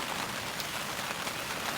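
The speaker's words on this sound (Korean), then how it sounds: "비가 오고 있어요." Rain falls on a new tent at the Yeongwol Hillstone campsite, a soft, even patter that stays steady and close throughout with no voices.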